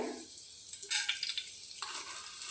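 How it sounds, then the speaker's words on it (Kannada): Mustard seeds, cumin and chana dal hitting hot oil in a pan give short bursts of crackling sizzle with light stirring, moderately close and with no voices, for a ridge gourd chutney tempering. "ಎಣ್ಣೆ ಕಾದಿದೆ ಇವಾಗ ಇದಕ್ಕೆ ನಾನು ಒಂದು ಅರ್ಧ ಸ್ಪೂನು ಸಾಸಿವೆ ಒಂದು ಫುಲ್ ಸ್ಪೂನು ಜೀರಿಗೆ ಕಡಲೆಬೇಳೆ"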